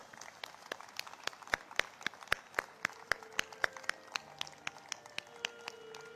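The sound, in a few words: audience applause at book launch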